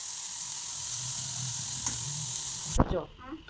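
Carrots frying in a pan with a pinch of salt give a steady close hiss throughout, broken near the end by a sharp metallic clatter and a brief scrape.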